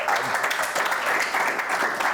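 A studio audience on a Pakistani political talk show claps steadily for a couple of seconds, with a dense, even wash of many hands close by and no break.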